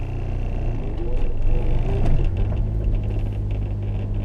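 A 2000 Honda Civic SiR, not run for a couple of days, drives along with a steady low engine rumble and whir from inside the cabin, swelling slightly partway through before settling.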